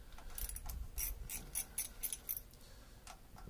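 Socket wrench working stubborn bolts on a MerCruiser boat engine, close-up ratcheting clicks in short irregular bursts, quiet and with no talking.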